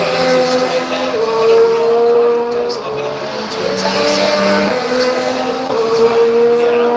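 Formula 1 race cars accelerating on track, loud high-pitched engine whine with rising and shifting tones as several cars roar together, with commentary voices underneath.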